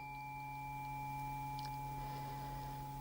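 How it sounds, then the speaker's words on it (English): A steady, pure metallic tone rings on without fading, with a couple of faint clicks partway through. "take the fork, strike it again, and bring it to your other ear"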